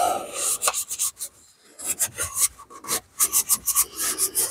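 A rag wiping down the rear differential of a Honda Ridgeline after the fill plug is torqued, giving close, busy rubbing and scrubbing strokes in quick bursts with one short pause near the middle.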